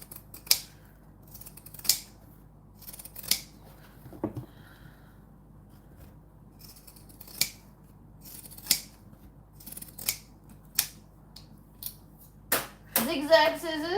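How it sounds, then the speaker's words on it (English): Sharp zigzag scissor snips repeat every second or so, crisp and close, cutting fabric with a brief scrape and faint background chatter. "Zigzag scissors, as always. Trim off the bits."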